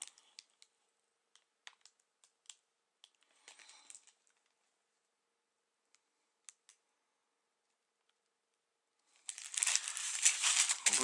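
Parcels from China being unwrapped, with sparse crisp clicks and rustles of packaging at first, then a loud, dense burst of crinkling plastic wrapping near the end.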